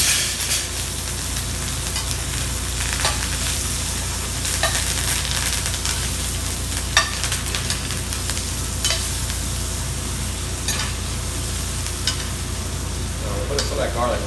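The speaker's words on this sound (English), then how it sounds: "So I'm going to baste it a little bit." Meat sizzles loudly and steadily in a pan as it is basted with butter, garlic and thyme, with occasional spoon scrapes against the metal and no talk.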